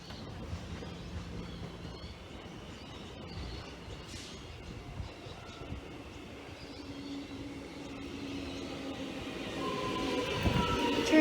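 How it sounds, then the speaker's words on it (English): A train rumbles steadily into Camberwell station, the low rolling noise growing louder toward the end, with faint squeals and rattling of the carriages. "Okay, train now arriving. This is the train that we're going to catch."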